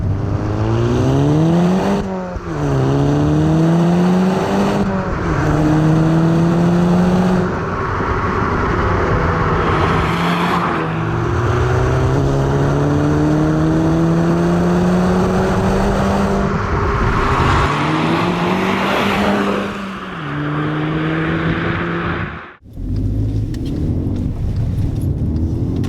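Volkswagen Golf GTI MK6 Edition 35 driven hard, its engine loud and close throughout, revving up and down in repeated rising sweeps as it accelerates through the gears, then cutting out abruptly near the end.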